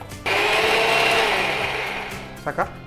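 A kitchen mixer grinding fried dry coconut, starting abruptly in a loud, dense whir that holds for about two seconds, fades slightly, then cuts off, followed by a couple of short knocks.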